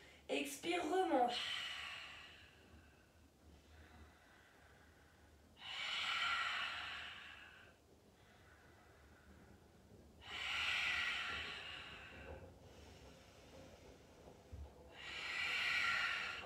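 Steady breathing during a Pilates exercise in a live coaching class: three long, loud hissing exhalations spaced several seconds apart, with quieter inhalations between them and a short sniff or gasp at the start.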